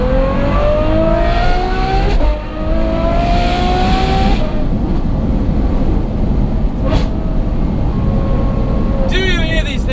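A Ferrari F12 engine revs hard and loud nearby, pitch climbing and falling through several bursts, with a voice speaking over the roar.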